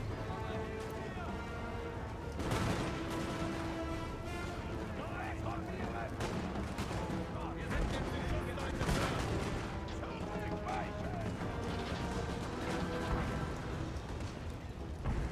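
Musket volleys and cannon fire in a Napoleonic battle in Napoleon Total War's Prussia campaign crack and boom repeatedly within a dense, continuous battle din, with louder bursts scattered throughout.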